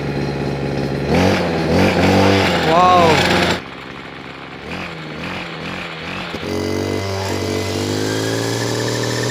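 A petrol brush cutter engine, used to power a homemade water pump, starts up and revs loudly close by, its pitch rising and falling with the throttle before settling into a steady idle, with a brief voice.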